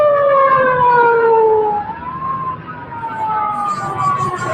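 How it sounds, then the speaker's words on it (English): Ambulance and fire engine sirens wail together, their tones sliding and overlapping, fairly loud and steady, with a distant rumble of traffic underneath. "So we're getting the ambulance and fire version"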